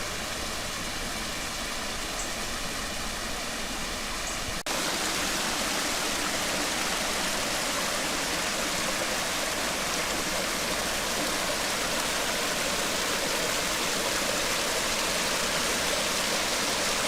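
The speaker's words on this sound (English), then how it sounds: "And there's a little waterfall right there." A small waterfall and stream by an old mill dam's rock wall rush with a steady, loud, broadband roar that continues unbroken.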